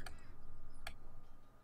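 Light tapping on a computer keyboard during a Dragon Age: Origins play session, two sharp clicks about a second apart over a faint steady background hum.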